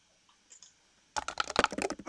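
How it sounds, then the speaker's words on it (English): Rapid computer keyboard clicking starts abruptly after a near-silent lead-in, a close, busy run of keystrokes with irregular rhythm and a few faint sounds before it. "I can hear you clicking in the background."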